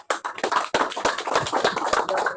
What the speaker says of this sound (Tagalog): Aton siya nga palakpakan.